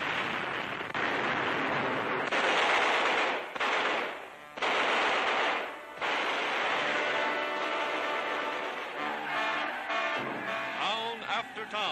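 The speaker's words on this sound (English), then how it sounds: "On the American right flank, the British 8th Army blasting their way to Tunis." Wartime gunfire from the British 8th Army in 1943 newsreel footage: dense, continuous machine-gun bursts and rattling shots, loud and crackly with old-film noise, under a narrator's voice.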